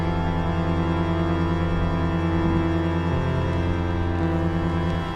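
Sonicware Texture Lab granular processor with density turned down to zero gives a sustained buzzy tonal drone with a subtle pitch shift midway, steady and loud for about five seconds with no voices.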